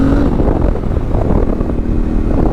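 A tuned Yamaha T7 motorcycle with an aftermarket exhaust, luggage bags and stiffer springs roars loudly and steadily close by on a backcountry route, its engine note a continuous rumble with no talking over it.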